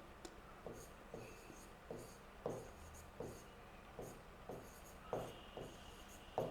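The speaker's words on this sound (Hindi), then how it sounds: "तो यहाँ पर एक पॉइंट ये भी लिखेंगे" Chalk or marker writing notes on a classroom board, a steady run of short scratchy strokes repeating about every half second, close and moderately loud, with no speech.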